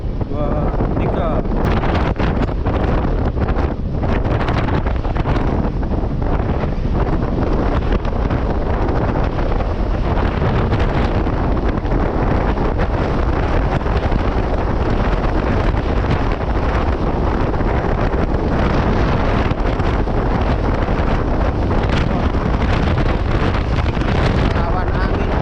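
Strong wind roars loudly and steadily across the microphone for the whole stretch while a Uwinfly M110G drone flies into a headwind, with rough gusty buffeting and no clear pauses.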